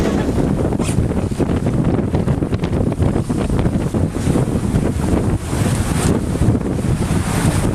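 Strong gusting wind in Montenegro buffets the microphone, roaring continuously with a rushing, blustery texture, loud and close.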